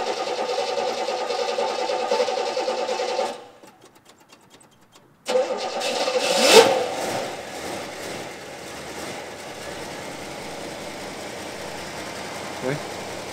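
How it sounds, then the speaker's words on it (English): A 1970 Oldsmobile 442 W-30 engine with 10 miles on it cranks and catches after a brief silence, revving up loudly and then settling into a steady idle close by. "That's the sound of a motor with 10 miles on it."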